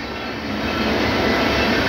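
The Kolkata–Amritsar Durgiana Superfast train 12357 arrives, giving a steady, loud broadband rumble and roar of rolling wagons close by, with no voices.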